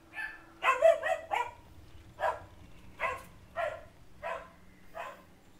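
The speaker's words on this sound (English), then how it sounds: "the dogs are barking again" Dogs bark in a video game: a cluster of sharp barks followed by several evenly spaced single barks, fairly close and clear over a quiet background.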